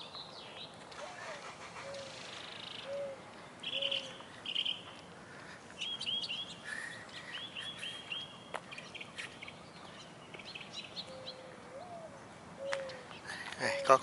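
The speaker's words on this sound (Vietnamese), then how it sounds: "Có con chim" Small bird chirps sound faintly outdoors in a garden by a street, a few short calls scattered over steady ambient noise with occasional nearby speech.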